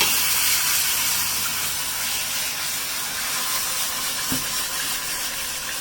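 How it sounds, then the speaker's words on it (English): Steady broadband hiss and crackle of food sizzling in a hot pan, continuous and fairly loud throughout with no talking. "see that it's sizzling nicely right there."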